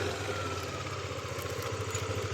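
A motorcycle engine idles close by at night, giving a steady low putter with faint mechanical clatter and no voices.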